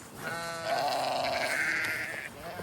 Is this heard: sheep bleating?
yes